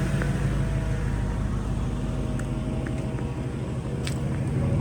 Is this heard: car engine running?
yes